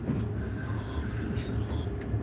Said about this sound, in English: This train is for Alba.